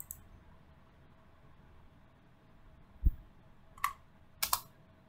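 A computer keyboard is pressed a few times during accounting software use: faint, isolated key clicks against a quiet background.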